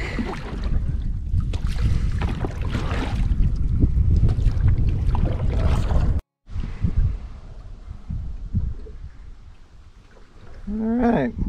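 A canoe paddled across a lake, with steady water swishes and paddle strokes that are loud and close for the first six seconds, then fainter rippling and splashing with some wind after a brief cut.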